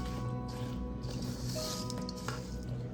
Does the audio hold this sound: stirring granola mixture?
yes